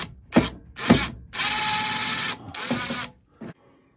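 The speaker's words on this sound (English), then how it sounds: "So to access this the cable connections. Got to take off these little screws." Power drill backing small Phillips screws out of the cover of an EG4 12000XP off-grid whole-house inverter, several short whirring bursts followed by two longer sustained runs, close and fairly loud with brief pauses between.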